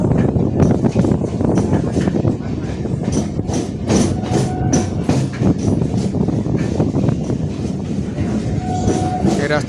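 Train rolling past near Princep Ghat in Kolkata, a continuous rumble with repeated wheel clacks and occasional squeals, close and loud, while voices are heard now and then over it.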